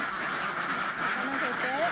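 Many ducks quack in a crowded farm pen holding around 4,000 birds, a steady crowded chatter with a few clearer calls rising near the end, mixed with a voice talking.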